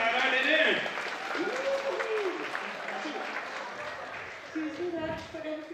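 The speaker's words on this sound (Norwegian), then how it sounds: "Vi tar en stor applaus til deg." An audience applauds prize winner Kristin at a children's event, keeping up a sustained round of clapping beneath voices and sung tones.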